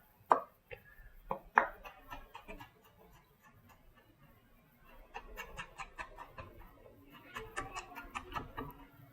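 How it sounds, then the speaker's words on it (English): A knife roughly chops green beans on a cutting board, with sharp close knocks, a few spaced strokes first and then faster runs of rhythmic chopping. "a little rough chop"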